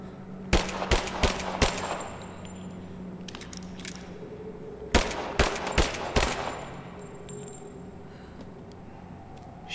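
Video-game gunfire aimed at a structure's weak spot: two bursts of four or five sharp, loud shots each, spaced a few seconds apart, with a steady low hum of game ambience between them.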